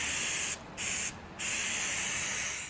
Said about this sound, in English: Okay, time to spray this bad boy.